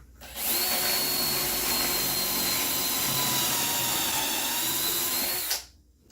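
A drill bores pocket holes in wood for an Arcade1Up riser, one continuous loud whine lasting about five seconds, starting and stopping abruptly.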